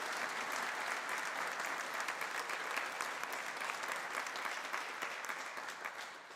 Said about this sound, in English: let's give him a thunderous round of applause for being here with us.